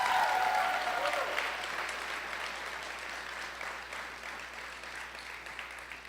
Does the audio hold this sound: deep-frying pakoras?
no